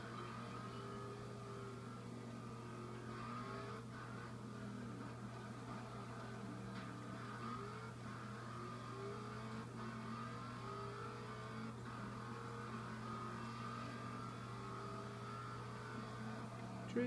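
A car speeds up on a highway, with a low, steady engine hum and tire drone whose pitch climbs slowly over many seconds, heard from inside the car at a moderate level.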